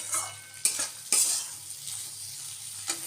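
Omelettes going into a simmering egg curry with potato in a pan, giving a steady sizzle with a few sharp clinks and scrapes of utensils early on, close and without talk.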